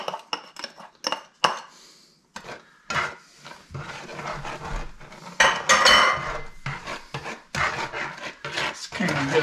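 A utensil clinks and scrapes in a pan as garlic, salt, onion powder and lemon pepper are stirred into melted butter for pan-fried walleye, with irregular sharp knocks and bursts of scraping, fairly close.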